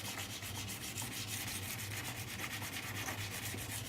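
The edge of a steel card scraper is worked for sharpening, giving a continuous, fairly loud, close-up abrasive rubbing with a quick back-and-forth rhythm and no talk.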